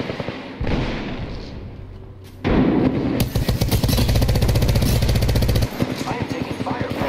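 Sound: Arc Star grenade thrown in the video game Apex Legends

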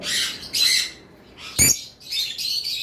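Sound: Fischer's lovebirds squawking and chirping

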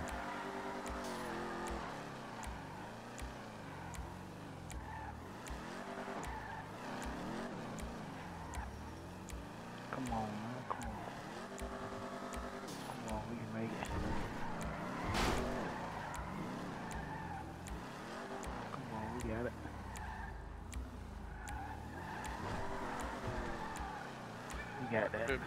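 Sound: car driving and skidding in GTA, a video game

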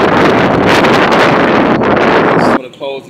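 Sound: wind blowing outdoors

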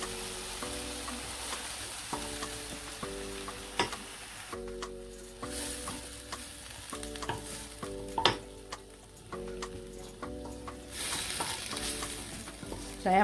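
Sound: frying anchovies in pan

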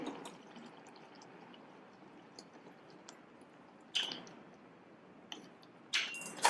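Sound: water poured into a cooking broad bean masala

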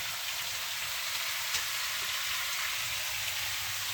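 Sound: pork belly sizzling in frying pan

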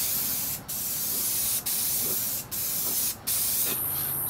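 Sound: spray can spraying crackle paint

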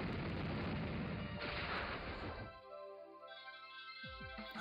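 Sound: Explosion move sound effect in video game Pokémon Sun

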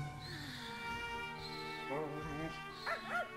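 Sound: dog barking in the video game Pac-Man World 2

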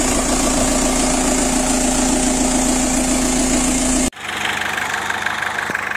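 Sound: Renault Clio 1.9 diesel engine idling

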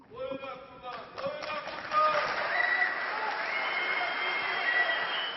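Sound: applause in a conference hall

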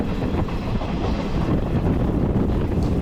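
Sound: train 07153 Narsapur to SMVT Bengaluru running

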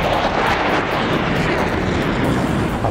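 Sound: Italian Air Force Tornado fast jet display

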